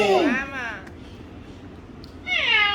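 A pet bird mimics a cat's meow, giving two drawn-out, gliding meow calls separated by a pause, loud and close, with a person speaking around them.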